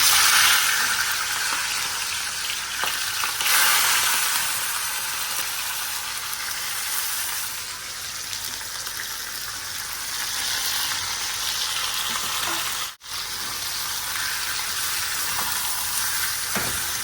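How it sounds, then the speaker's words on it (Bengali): Chicken pieces fry in a hot wok, giving a loud, steady sizzle with stirring scrapes throughout and one very brief dropout near the end. "এখানে মুরগিগুলো দিয়ে দিই একসাথে দিয়েই না খালি ভাজবো"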